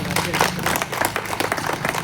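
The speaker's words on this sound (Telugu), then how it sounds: "చాలా గట్టి చేసి దానికి అభిషేక్ క్లాప్స్ కొట్టాలి" A crowd claps steadily at a Congress party felicitation event for the chairman, vice chairman and councillors, with dense, close applause running throughout and a voice speaking over it.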